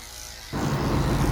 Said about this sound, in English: I'm shaving the pads of her feet out with a 30 blade